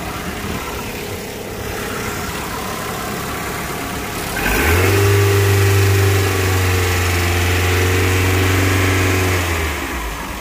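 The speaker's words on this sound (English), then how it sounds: "Now it's asked me to take the RPM 2500 and I shall do that now." A car engine idles steadily, then is revved up and held at about 2500 RPM for several seconds during a battery test before dropping back, a loud sustained mid-pitched drone with no talk.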